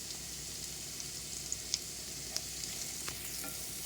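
Onions and garlic fry in a pan with a steady close sizzle, broken by a few sharp pops and faint stirring clicks, with no talking.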